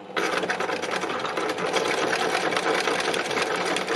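A sewing machine runs continuously doing slow free-motion stitching of seedhead shapes on a landscape piece, a steady close mechanical whir and rattle with no pauses or talk.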